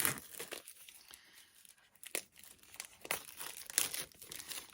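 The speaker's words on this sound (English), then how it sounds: "taking the plastic off here" Plastic shrink wrap crinkles and tears as it is pulled off a matte oracle card box, in quiet close-up bursts of crackling with short pauses between them.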